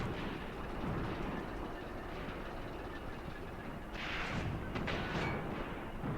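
A tank is hit by a shell in Graviteam Tactics, a Kharkov 1942 war game: a low rumbling barrage of booms with sharper bursts near the end, sustained and fairly loud, without talk.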